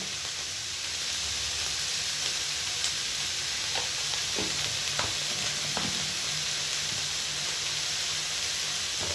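Potatoes and cauliflower sizzle and hiss steadily in a hot pan, with occasional scraping stirs and light clinks over the constant frying noise.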